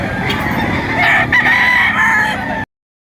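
A Boston Roundhead rooster, about ten months old, lets out one long, loud crow close by, then silence.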